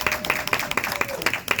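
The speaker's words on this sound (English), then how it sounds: "Give me a big round of applause." Audience applause at a comedy stand-up show, quick crisp claps crowded together in an even rhythm, fairly loud and close throughout.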